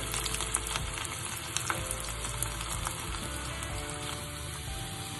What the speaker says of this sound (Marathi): लसूण छान तळू द्यायचं